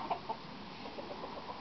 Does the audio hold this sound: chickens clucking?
yes